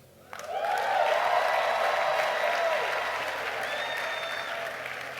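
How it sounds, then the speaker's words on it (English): A large crowd at a Thanksgiving church service in Nigeria claps and shouts in a loud, sustained swell that starts abruptly and keeps going to the end. A whistle-like cheer rises briefly near the close. "You see the type of clap and shout."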